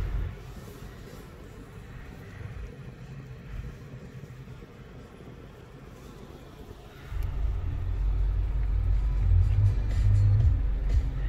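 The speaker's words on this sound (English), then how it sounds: "it's a lot of cars in the drive-thru" Many idling cars queue in a busy Krispy Kreme drive-thru, a low, steady engine rumble that grows louder and heavier partway through as a vehicle moves close by.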